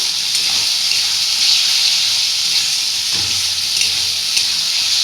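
Loud, steady hiss and sizzle as peas go into hot spiced tomato masala with oil in a pan for chicken keema ghugni, a continuous bright frying noise with a few soft clatters and no voices.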